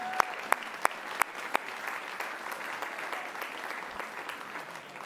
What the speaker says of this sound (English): I think we all need to thank them right now with a round of applause to every live reporter